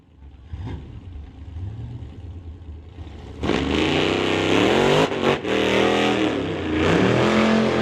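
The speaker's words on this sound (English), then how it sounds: "the Challenger lights the tires on the start line" A Dodge Challenger spins its tires on a drag strip start line: a car revs briefly, then a loud, sustained engine roar with screeching tire noise builds and holds close by, with no talk.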